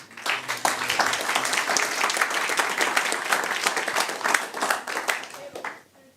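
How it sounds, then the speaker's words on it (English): A crowd at a digital freight conference claps in a dense, lively burst that swells quickly, holds with crisp individual claps audible, then dies away near the end. "Big round of applause."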